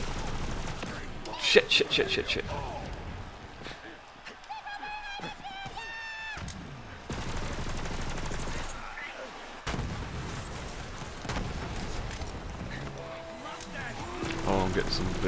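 Rapid weapon fire from the looter-shooter Borderlands 3 pops and booms in dense bursts with game effects and clatter, continuing almost nonstop, while a player talks over the action.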